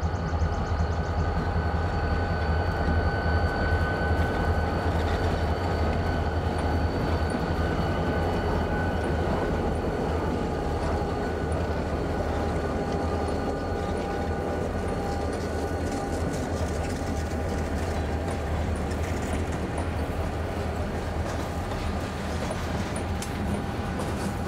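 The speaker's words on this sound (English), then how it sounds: "we watch them pull the string of hoppers from the loading area" Wheeling & Lake Erie locomotives 111 and 110 haul a string of empty hopper cars from a loading area, a loud, continuous low engine drone with steady rail rumble throughout.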